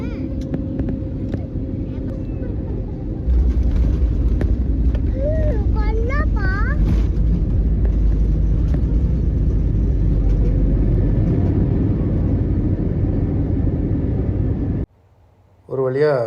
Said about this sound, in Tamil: ஒரு வழியாக ஃப்ளைட்டு மதுரையில் லேண்ட் ஆகிடுச்சுங்க.